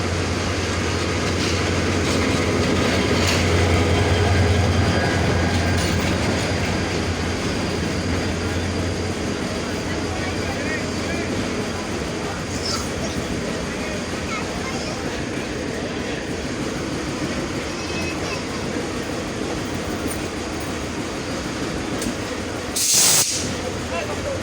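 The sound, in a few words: Dolanchapa Express intercity train, long-hood locomotive 2907, Dinajpur station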